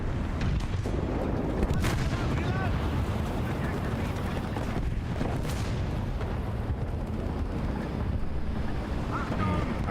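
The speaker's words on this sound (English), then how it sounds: "Artillery fire." Artillery fire in the War Thunder video game, heavy booming blasts rolling through a dense, constant roar of wind-like rumble across the whole stretch, with several sharp impacts standing out early and midway.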